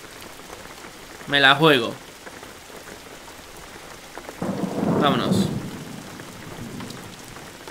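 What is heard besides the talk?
rain and thunder heard from inside a car in the video game Jalopy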